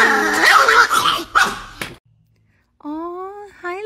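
A dog barks and whines in a quick, excited string of yelps up close, then a pause, followed by a couple of higher whimpering yips.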